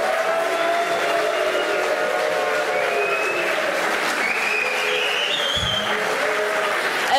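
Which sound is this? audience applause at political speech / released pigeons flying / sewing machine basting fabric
audience applause at political speech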